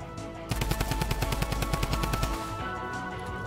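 A mythic assault rifle fires in a video game. It lets out a rapid, evenly spaced automatic burst of about fifteen loud, close shots, then stops and leaves a fading ring and a hum.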